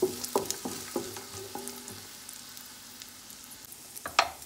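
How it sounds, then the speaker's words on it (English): Chopped onion sizzling in a pan for turkey fried rice, with a few sharp stirring taps against the pan at the start, then a steady soft frying hiss. "We're gonna cook the onion for a minute"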